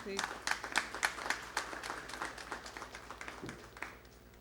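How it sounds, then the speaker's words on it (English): Applause at a formal event after a vote of thanks is announced: a crowd claps in a steady patter that gradually thins and fades over a few seconds. "A huge round of applause, please."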